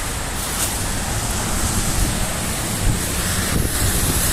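Water waves wash in a constant broadband roar, with wind buffeting the microphone throughout and no clear break in the sound.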